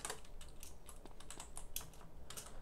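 Several quick key presses on a computer keyboard during a GTA multiplayer Battlefield session, a light run of close, crisp taps with uneven spacing and no talk over them.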